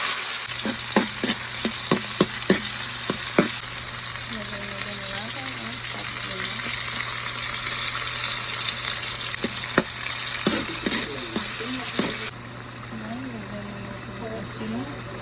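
Eggplant with onion and tomato sizzles steadily in a hot pan, with sharp clicks of a utensil early on, and someone talks at intervals over the continuous frying.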